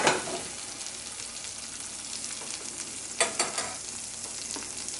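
Two tablespoons of Melt Organic plant-based butter sizzle in a hot pan with a steady frying hiss, a brighter burst of crackling at the start and a few spattering pops past the midpoint.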